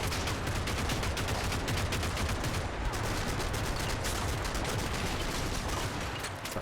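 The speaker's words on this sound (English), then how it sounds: "they still have the machine gun" Machine gun fire in Combat Mission: Battle for Normandy, a long unbroken stream of rapid shots that holds steady at moderate loudness, with no talking.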